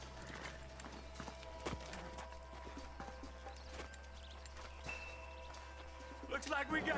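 Horse hooves walking in the video game Red Dead Redemption: a steady, faint clip-clop of slow steps under a low hum, with brief voice fragments and a sharper burst near the end.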